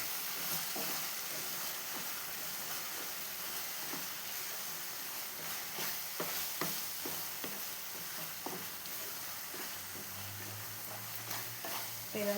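A sweet mixture of grated coconut, milk powder, ghee and jaggery is sautéed in a pan with a continuous soft sizzle. Irregular scraping stir strokes are heard close by.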